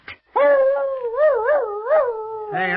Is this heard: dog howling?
yes